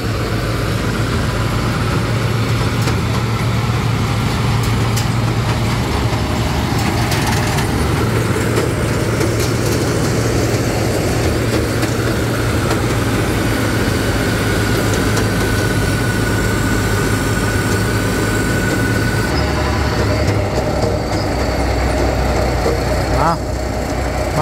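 A car, offered for sale at 950,000, revs up and accelerates on a test drive, its engine a loud, steady drone with low rumble throughout, fading slightly near the end.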